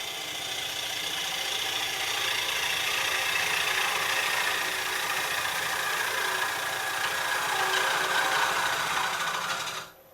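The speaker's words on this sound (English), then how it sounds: "roughing type cut with a gouge, one of the swept back grinds" A wood lathe spins while a swept-back grind gouge with a long flute makes a roughing, scraping cut, giving a continuous abrasive rasp over a steady motor hum before stopping abruptly near the end.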